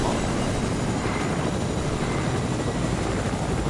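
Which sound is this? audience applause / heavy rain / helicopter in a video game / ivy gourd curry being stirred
helicopter in a video game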